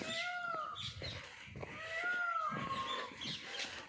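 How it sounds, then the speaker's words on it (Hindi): Birds chirp and call in a quiet grove in Vrindavan, bright overlapping whistles and trills repeating near to mid-distance over a soft, still background. "केवल पक्षियों की चहचहाने की आवाज़ है"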